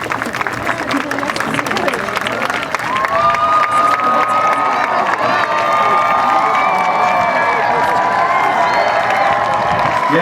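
A large crowd at a 2014 high school graduation cheers, shouts and claps continuously at high volume, with whistles and voices rising above the steady roar throughout.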